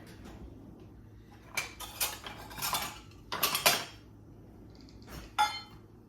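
Sugar is measured into a bowl of butter with scattered clinks and scrapes of a metal measuring cup or spoon against the bowl, close and fairly quiet, with short pauses between bursts and no talking.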